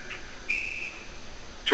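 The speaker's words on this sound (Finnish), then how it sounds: "Päätuomari Kovasen puhallettua pillinsä." A referee's whistle gives one short blast at an ice hockey game in an arena, faint under crowd noise and a commentator's voice.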